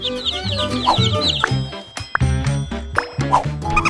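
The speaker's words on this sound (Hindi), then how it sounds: "इसे देखो तुम लोग, असली छोटे चूजे।" Tiny chicks cheep in a close, busy chorus of high, rapid chirps that keep overlapping and never pause, with a few louder peeps standing out above the rest.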